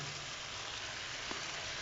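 Boiled eggs and green chillies sizzle in hot oil for an egg jalfrezi, a steady, soft frying hiss with a faint stirring scrape near the end.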